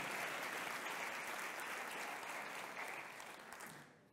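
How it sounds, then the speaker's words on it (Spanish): Listeners at a technology talk applaud the event's organisers with a continuous round of clapping from a sizeable crowd, fairly distant and even, gradually thinning and fading away at the end. "Vamos a darles un aplauso"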